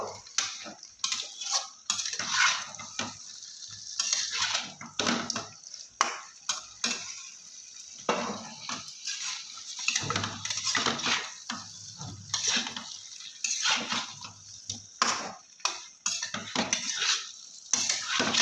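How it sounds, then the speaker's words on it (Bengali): Eggs are stirred in a spiced masala in a pan for an egg curry. A utensil scrapes the pan in repeated, close strokes over a faint sizzle, with no talking. "আমি এবারে এর মধ্যে ডিমটা দিয়ে একটু কষিয়ে নেবো"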